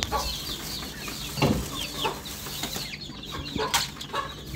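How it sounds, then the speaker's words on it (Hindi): Aseel hen with six chicks making soft, repeated clucks and high peeping calls, with a brief wing flap in the middle, close by in a farmyard setting and without speech. "ये हैं हीरे के बच्चे छह, जो हीरे की मुर्गी के नीचे से निकले हैं।"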